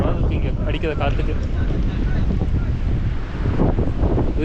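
Strong wind gusting across a sandy beach on the Kenyan coast near Mombasa, roaring steadily into the microphone with broadband buffeting throughout, while a voice talks over it.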